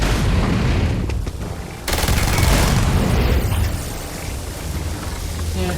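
Rapid gunfire from a weapon in the video game Starfield, a loud, dense stream of shots that cuts out briefly and resumes, with a mixed game soundscape beneath.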